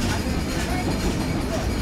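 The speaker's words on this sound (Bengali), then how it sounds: "ট্রেন কিন্তু আবারও টপ স্পিড নিয়ে নিয়েছে, মারাত্মক গতি।" Sundarban Express passenger train between Dhaka and Khulna running at top speed, a steady loud rumble of wheels and carriage noise, close and continuous with no clear breaks.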